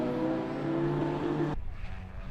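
Racing cars in an over 2.0-litre class battle closely with a white BMW, engines loud and droning with steady harmonics, then the tone abruptly drops and thins as the pack passes.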